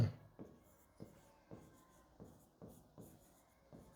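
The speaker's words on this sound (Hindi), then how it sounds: "साफ लिख दे रहा हूँ, कांस्टेंट टर्म" Chalk or marker writing out a term during a class 12 math lesson on integration, soft rhythmic taps and strokes roughly every half second, faint and close, with no speech.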